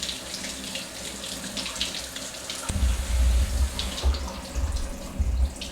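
Tap water runs and splashes over about two pounds of very ripe tomatoes being rinsed in a sink, a steady close gush that grows heavier partway through.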